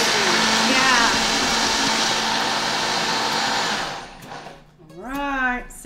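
A Vitamix blender whirs loudly while blending a smoothie for about four seconds, then stops abruptly; afterward a voice speaks in the quieter room.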